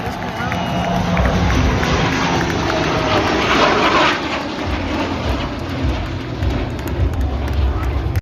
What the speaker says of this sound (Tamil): நாசிக்ல தேஜஸ் மார்க் 1A உடைய மெய்டன் ஃபிளைட் ட்ரையல்ஸ் வெற்றிகரமா நடந்து முடிஞ்சிருக்கு